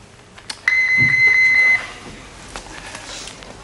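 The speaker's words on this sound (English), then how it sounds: "please leave your message after the beep" A single steady electronic answering machine beep sounds for about a second, clear and fairly loud, then the line falls back to quiet background hiss.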